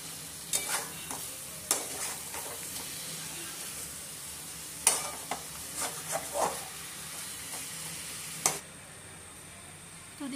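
Chicken being sautéed with tomato paste in a pan, a steady low sizzle broken by sharp intermittent scrapes and taps of a spoon stirring, close and moderately loud, with no talking.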